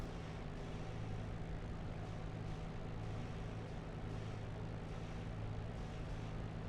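A fixed-wing aircraft taxis toward the runway in the DCS flight simulator, its engine a steady, continuous drone with a strong low hum that holds an even level throughout, with no voices over it.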